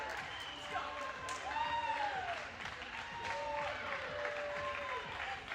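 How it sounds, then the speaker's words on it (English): Crowd noise and scattered applause from spectators at a men's NCAA gymnastics meet, a steady moderate din with a commentator talking over it throughout. "I hear some noise from the crowd."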